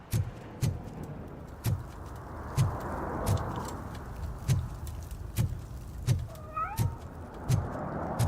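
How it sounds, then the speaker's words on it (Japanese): Cat in RoboCop: Rogue City gives an occasional meow over a steady street ambience with a regular thumping beat, with a clearer cry near the end. "なんか猫の鳴き声たまにするね。"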